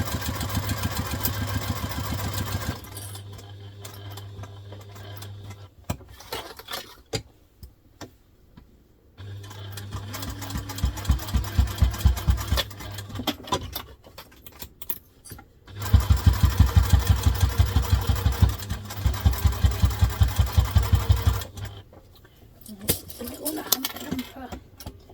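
A sewing machine stitches a diaper clutch in bursts, its motor whirring steadily for several seconds at a time with pauses between runs, close and fairly loud.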